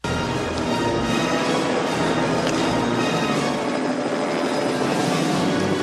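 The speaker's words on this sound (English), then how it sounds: "So you got Sly hanging onto that edge, and the helicopter coming over to his left shoulder." A real helicopter flies into a gorge in a film scene from First Blood, its rotor and engine roaring loud and close in a dense, constant wash that never lets up, with no talk over it.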